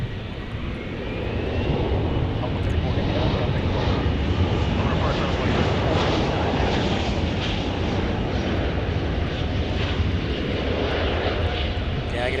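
Airplanes at Dallas Fort Worth airport roar continuously at close range, a loud, broad engine rumble that swells and holds throughout the clip, with no voices audible over it.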